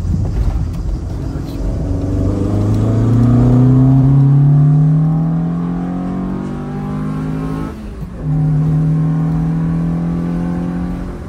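A prepared Citroën AX Sport engine revs hard in one gear, its pitch climbing steadily, then drops briefly at a gear change before pulling again, loud and close from inside the car.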